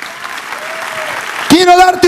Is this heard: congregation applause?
yes